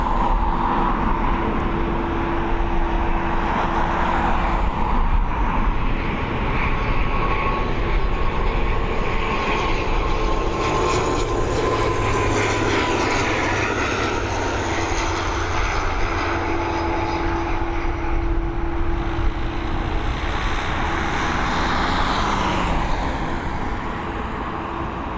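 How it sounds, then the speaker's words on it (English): An ATR turboprop airliner at Dublin Airport gives a loud, steady propeller and engine drone with sustained tonal hum, holding for the whole stretch with a faint roadway rumble underneath and no talking. "we'll pick up this ATR"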